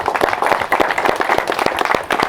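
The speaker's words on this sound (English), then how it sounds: "So clap it up for yourself, man." An audience claps together at a real estate talk, a dense, steady burst of many hands lasting a couple of seconds with no voices over it.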